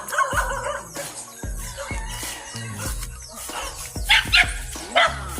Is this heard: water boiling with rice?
no